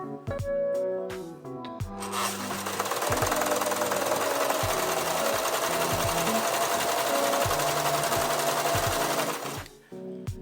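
An overlock sewing machine runs in a fast, steady buzzing stitch for several seconds, with brief clicks and thuds before and after.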